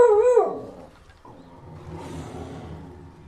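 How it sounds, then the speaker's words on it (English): A dog gives a single close, loud, wavering howl-like bark in a quiet room while a video game is being recorded, then a low rumble of background noise follows. "Don't you bark like that."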